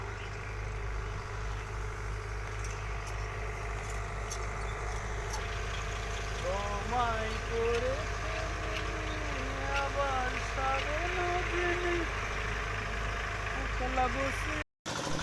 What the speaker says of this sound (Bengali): তাই দেখো পগ মেশিনটার যে ইঞ্জিন এটা কিসের ইঞ্জিন